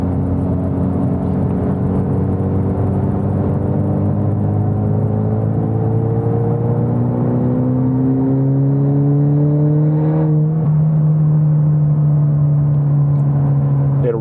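A four-cylinder car engine revs up steadily with a raspy, droning tone, pitch climbing over several seconds before a brief dip and recovery, loud and close throughout.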